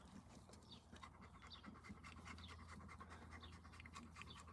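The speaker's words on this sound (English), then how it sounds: "I'm gonna take the dog in because she sounds like she's over here just dying, and she needs to get in and get out of the shade" A hot dog panting in the heat, with quick, steady, rhythmic breaths close by and some faint scratching behind them.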